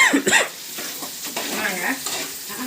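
Curry leaves frying and being stirred in a pan, a crackling sizzle broken by brief voice-like sounds.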